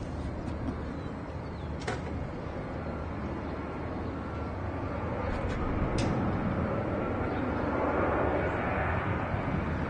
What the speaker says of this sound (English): Next departure, United Airlines Flight 1817, heading to, well, 737 900 ER